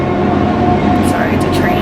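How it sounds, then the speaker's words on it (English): A train rumbles past nearby in a steady, loud roar of wheels and rail noise, with a voice speaking briefly over it. "sorry, it's a train."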